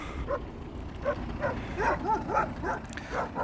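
Several Kangal shepherd dog barks and yips at a distance, irregular and overlapping, over a low background rumble.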